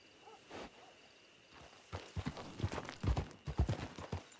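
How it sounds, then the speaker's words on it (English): In-game horse hooves in Red Dead roleplay clip-clop at a walking pace, quiet at first and then growing louder and more regular, with no speech. "Whose horse?"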